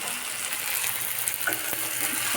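Vegetables with tomato and coriander leaves fry and get stirred in a pan, producing a dense, steady close sizzle with a few faint scraping touches and no talking.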